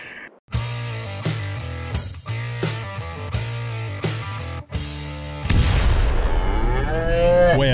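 Cattle in a large barn in the video game Farming Simulator 22 low loudly and repeatedly, several drawn-out moos in close succession, followed by a rumbling, boomy burst of game noise.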